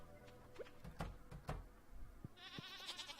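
Sheep bleat a few times in a Stardew Valley farm game, short wavering calls over soft game background sounds and chimes, with no talking.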